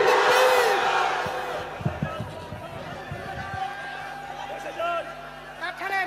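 A large crowd at an outdoor Bengali sermon roars the takbir chant in one loud, sustained collective shout, then trails off into murmuring and scattered voices.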